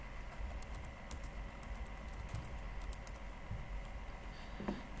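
Text is typed on a computer keyboard, with steady close key clicks in an uneven patter over a constant background hum and no talking.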